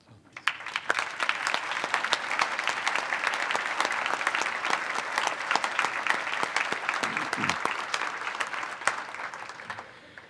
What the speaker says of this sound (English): We invite you to please stand so that we can applaud